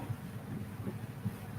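Steady wind buffeting a microphone, a low rumbling roar with gusty bumps throughout, no voices.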